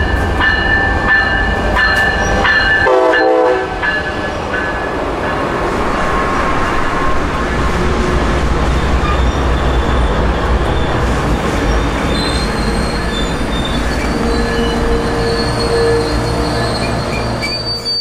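An Amtrak Siemens ALC-42 locomotive hauls a train past at a small-town station, a loud, close rumble of rolling cars with wheel squeal and rail clatter that continues steadily throughout, with no one speaking.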